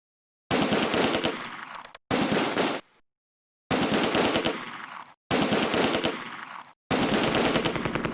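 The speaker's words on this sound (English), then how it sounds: "I hear a machine gun." Machine gun firing in the Close Combat: A Bridge Too Far wartime strategy game, five loud sustained bursts of rapid automatic fire separated by short gaps of silence.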